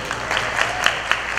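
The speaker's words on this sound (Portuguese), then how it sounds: "Um aplauso pessoal de Pouso Alegre." A church audience in Pouso Alegre applauds during a sermon, a dense steady wash of clapping with a few sharper individual claps standing out, loud and near, with no voices on top.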